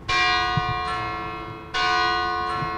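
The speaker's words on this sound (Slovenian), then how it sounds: "Odmev z tega zvonika se sliši vsakih 15 minut, ko sporoča uro." A church tower bell strikes the hour twice, each stroke bright and resonant with a long ringing decay, fairly close.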